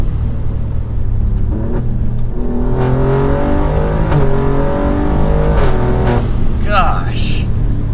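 Tuned 600 HP Alfa Romeo Giulia Quadrifoglio accelerating from inside the cabin, its engine note climbing in rising harmonic sweeps with gear changes, loud and continuous while someone talks over it.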